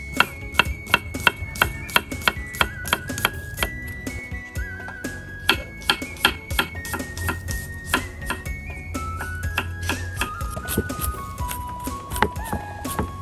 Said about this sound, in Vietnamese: Đây em bầm miếng tỏi để hồi cái mình phi á, mình cho vô mình ăn miếng sò.